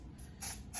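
A light spray of lace tint misted onto the inside of a silver wig, in two short hissing bursts about a third of a second apart.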